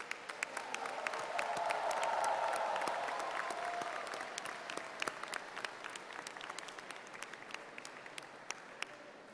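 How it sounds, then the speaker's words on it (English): Sustained applause fills a graduation ceremony hall, a dense wash of many hands clapping that swells early and then slowly thins out, fairly distant and even. "give a round of applause for all of those who have supported you"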